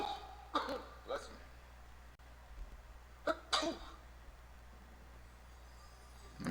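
One person sneezes, with two quick close bursts followed by a pause and then two more. Quiet room tone fills the gaps between them.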